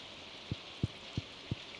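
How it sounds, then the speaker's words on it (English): Rain falls outside in the Stardew Valley game during spring, a soft continuous hiss with four evenly spaced low patters, faint and alone with no voices. "Oh, you can hear the rain outside."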